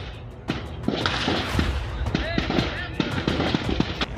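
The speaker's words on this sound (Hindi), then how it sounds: "तड़ातड़ गोलियां चल रही हैं।" Rapid bursts of gunfire during a security forces' operation against hidden militants in Sopore, Jammu and Kashmir, heard as a string of sharp cracks and thuds over constant outdoor noise, with voices underneath.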